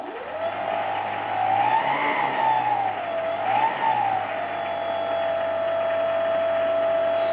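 A Corsair model airplane engine runs steadily, its throttle blipped twice for short rising-and-falling revs before settling into a constant high-pitched drone, loud and close with no talk.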